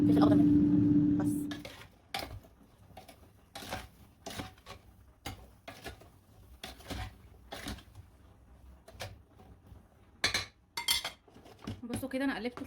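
Chicken pieces and vegetables, including peas and green pepper, are tossed and stirred in an air fryer basket, giving a run of close clinks and scrapes with a brief loud hum at the start.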